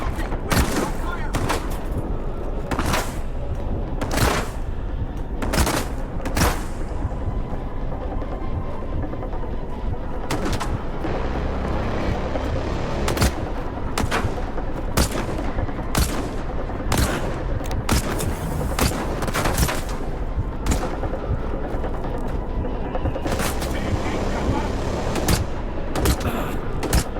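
Dense, continuous gunfire from the video game Stalker 2, with loud bursts and sharp shots hammering almost without pause throughout and layered over a constant battle din.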